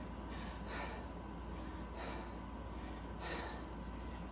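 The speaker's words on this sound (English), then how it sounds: "I'm gonna try and take deep breaths, encouraging myself to breathe down to the lower hand" Deep diaphragmatic breaths taken during a foot-elevated hip flexor stretch, about three slow, airy inhale-exhale cycles spaced a second or so apart, close and soft over a steady low background hum with no talking.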